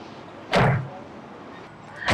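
The rear side-hinged door of a Mercedes G-Wagon swings shut with one solid, heavy thud, heard close by against a low background rumble, with a second closing sound beginning at the very end.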